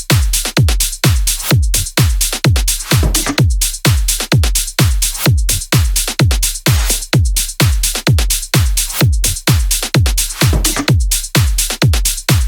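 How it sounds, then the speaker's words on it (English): Full bass house drop drums playing together, a loud pumping four-on-the-floor kick pattern with crisp claps and hats layered over it, steady and driving throughout. "Drop drums all together sound like this."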